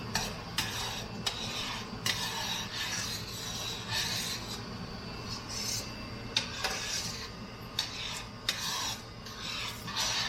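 Dried fenugreek leaves, kasuri methi, are crushed between both hands for a butter chicken gravy, giving a soft, close, continuous rasping rustle with a few sharper crackles, quiet and without speech.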